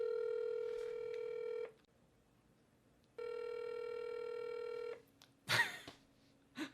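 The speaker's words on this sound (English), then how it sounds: "I am calling Kiss FM's studio line" Steady multi-tone ringing from a telephone, two long rings separated by a pause, followed by a couple of brief clicks and rustles on the line.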